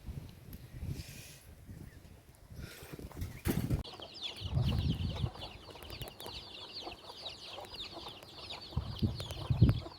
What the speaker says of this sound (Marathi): ह्या कोंबड्या खूप छान खातात बघा